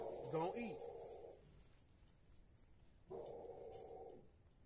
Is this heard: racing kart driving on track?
no